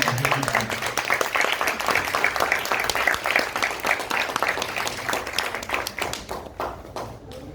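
An audience at a theatre program claps to welcome guests, a fairly close, dense patter of hands that holds steady and then tapers toward the end.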